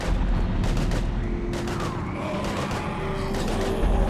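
Gunfire from the video game Mass Effect Legendary Edition during a husk attack on Earth, with sharp repeated shots and booms over a dense, continuous battle roar.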